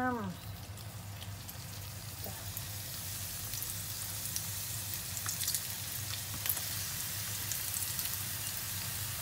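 Quail egg wontons frying in hot oil, a steady soft sizzle and crackle holding throughout at moderate level, with no one speaking.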